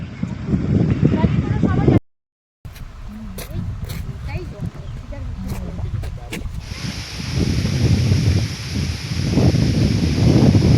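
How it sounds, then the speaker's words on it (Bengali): Steady cold wind gusting through trees at a barrage in Jhargram, with a broad rustling hiss of leaves and rumbling wind buffeting the microphone, briefly cutting out once. "সুন্দর চিলিং একটা হাওয়া, হাওয়ায় গাছের পাতাগুলো নড়ছে, তার আওয়াজ"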